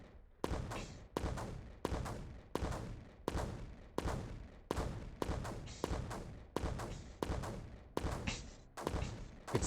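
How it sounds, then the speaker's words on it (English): Mortars firing in the strategy game Creeper World 4: a steady run of about a dozen sharp, booming shots, each trailing a short decaying rumble and spaced roughly every three quarters of a second, at fairly low level. "is it making the mortar fire faster?"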